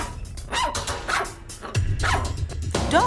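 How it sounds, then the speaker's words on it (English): A dog in an animated story barks and yips in several short, loud bursts close by, with whimpering tones between them and no talk. "Dog suggesting that red killed blue."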